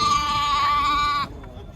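A goat gives a long, loud, quavering bleat close by at a livestock market in Kyzylorda, then breaks off into quieter market noise.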